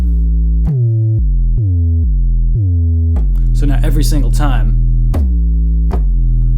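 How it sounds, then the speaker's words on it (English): Deep Moog 808-style synth bass notes, each opening with a sharp downward pitch drop, repeat in a steady sequence of about eight hits, with someone talking briefly over the middle. "we want to make sure that every time a new note is triggered, we hear that pitch drop"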